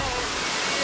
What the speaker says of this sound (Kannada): ವಾಟರ್ ಫಾಲ್ಸ್ ಅಂತೂ ಕ್ರೇಜಿ.